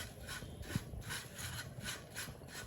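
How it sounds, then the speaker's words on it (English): Oats, cinnamon, salt, honey and chia seeds are stirred together in a pan over low heat, giving soft, rhythmic scraping strokes about twice a second, quiet and close, without talk. "I'm just trying to mix the ingredients together, the cinnamon, the salt, the honey, the oats, and the chia seeds"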